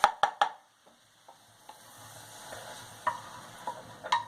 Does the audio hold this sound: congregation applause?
no